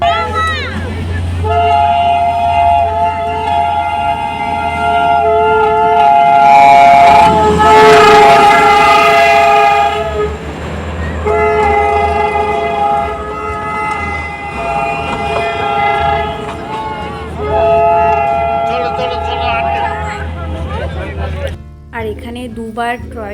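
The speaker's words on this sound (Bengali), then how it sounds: "টয় ট্রেনটা দেখো চলে এসছে এটা হচ্ছে ডিজেলের টয় ট্রেন" A diesel toy train of the Darjeeling hill railway arrives, sounding long, loud blasts of its horn over the rumble of the engine, with people talking nearby.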